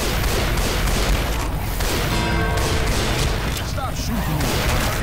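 Dense, continuous gunfire and booming shots from a Left 4 Dead 2 versus match at the Dark Carnival, loud and unbroken throughout, with players talking over it.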